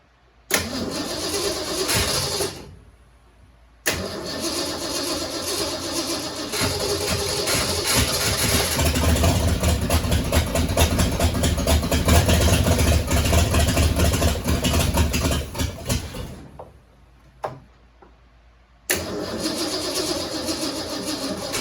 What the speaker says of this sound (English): See if we can drop the solenoid and get it to start from out here.